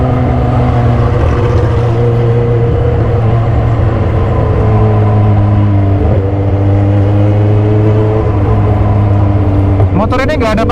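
A modified 2015 Kawasaki H2 supercharged motorcycle accelerates hard with loud, sustained engine drone and rising pitch across gear changes, close to the rider, with wind noise throughout.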